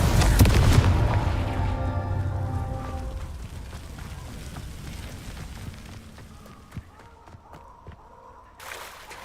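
A Confringo blasting spell detonates in Hogwarts Legacy as a loud, booming burst up front that rumbles and fades over several seconds, with smaller crackles and thumps trailing off and a sharp hit near the end.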